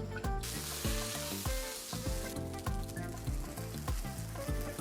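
Steak sears in oil on a hot Blackstone griddle with a loud, steady sizzle, while a rhythmic, pulsing musical beat plays over it.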